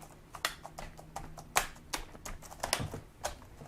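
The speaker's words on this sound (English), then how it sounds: "You may hear a lot of cracking and popping" Irregular sharp clicks and snaps as a Lenovo G70 laptop keyboard's clips snap into place, close by and fairly quiet, scattered unevenly with short gaps between them.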